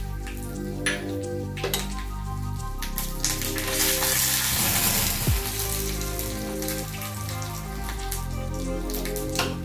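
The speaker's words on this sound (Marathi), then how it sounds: "उडदाची डाळ, कढीपत्ता आणि मिरची, आई छान तळतळले।" Urad dal, curry leaves and chillies frying in hot oil, giving a steady, close sizzle that holds through the whole stretch, louder and thicker near the middle, with no one speaking over it.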